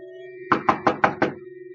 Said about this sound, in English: and I went over and knocked.